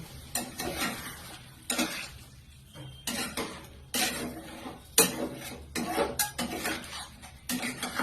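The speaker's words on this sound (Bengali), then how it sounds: "আমি যে তেঁতুলটা ভিজিয়ে রেখেছিলাম সেই জলটাকে দিয়ে দিচ্ছি" Tamarind water poured into a pan of vegetarian aloo dom, with stirring scrapes and clattering of the pan in repeated bursts over a soft sizzle, close and moderately loud.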